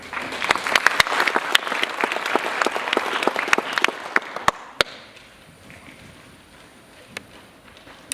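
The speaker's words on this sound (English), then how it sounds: "of course you can applaud" Audience applause at a high school spring concert band performance: dense, lively clapping from a crowd that tapers off after about five seconds, leaving a few scattered late claps in a quieter room.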